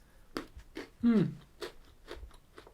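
Strawberry cheesecake Flipz chocolate-covered pretzels crunch close to the mic in short bites and chews, with a voice making brief sounds between them.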